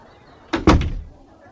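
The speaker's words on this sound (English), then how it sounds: "And the woman closed the door." A door swings shut with a sharp wooden slam and a quick rattling follow-up, a short close thud standing alone in a quiet room.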